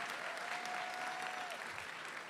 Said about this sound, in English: Go ahead, applaud for him, he deserves it.